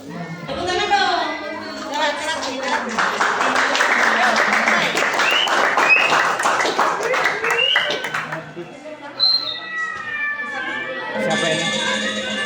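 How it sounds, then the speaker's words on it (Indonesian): A school graduation farewell audience applauds with dense, sustained clapping for several seconds, with voices calling out over it before the clapping thins and chatter remains. "Tepuk tangan dong."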